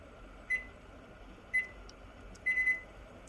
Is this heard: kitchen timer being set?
yes